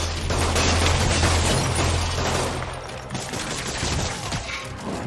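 Dense, loud gunfire from thugs in the video game Marvel's Spider-Man, overlapping shots and impacts that blur into a continuous roar.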